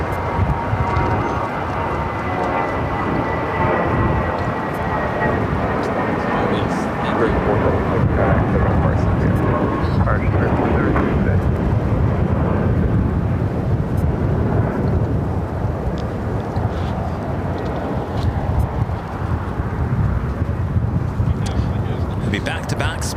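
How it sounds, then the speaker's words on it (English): A Spirit Airlines A320 jet takes off at Los Angeles International Airport, its engines a loud, broad rumbling roar that holds steady and slowly shifts as it climbs away, with wind buffeting the microphone. "Next takeoff is a flight heading to Reno, Nevada. Spirit Airlines Flight 476 and the A320."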